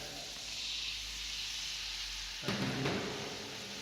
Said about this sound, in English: we're going to add a little bit of water